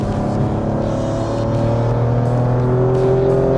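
Maserati Grecale Trofeo SUV exhaust on a race circuit, a loud, sustained engine note with rising harmonic tones as the car accelerates under load, close and continuous with no talk.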